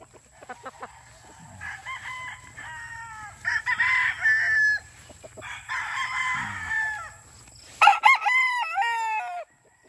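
A gamecock rooster, a Sweater and Boston Roundhead cross, crows several times nearby, with drawn-out calls, while other fowl cluck around it and one loud, close crow ends the sequence.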